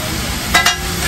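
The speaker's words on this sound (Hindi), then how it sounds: "पिघला हुआ बटर है। हाँ जी हाँ जी, पिघला तड़का लगने जा रहा है देखो।" Melted butter sizzling on a hot pan for a tadka at a street stall making chole kulcha, a continuous close fry hiss with two quick louder crackling bursts midway.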